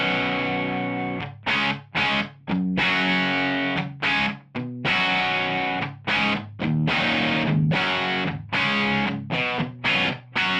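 Electric guitar chords through a Maxon DS-830 Distortion Master pedal, strummed and left to ring, then choked off in short stabs; loud, driven and sustained, with no voice.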